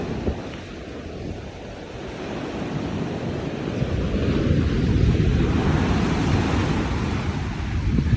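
Big ocean waves at Jomtien Beach after typhoon damage, a continuous broad surf roar that swells gradually louder, with wind buffeting the microphone and no voices.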